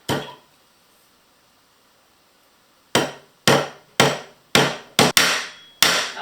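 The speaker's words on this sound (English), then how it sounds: "this is where the magnetic hammer comes in really handy" A magnetic hammer drives upholstery tacks into tough hardwood on a piano stool: one strike, a pause, then six sharp, loud, close blows in a steady rhythm.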